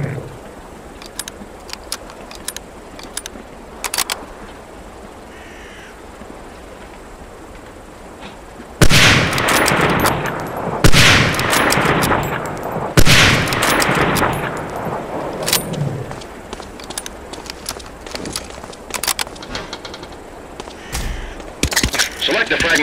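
Springfield 03 sniper rifle firing in Medal of Honor: Allied Assault on a training range: a quiet stretch, then a run of loud, sharp shots with echoing tails, repeated at irregular intervals.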